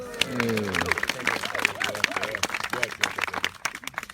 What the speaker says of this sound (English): Or at the very least, a massive round of applause.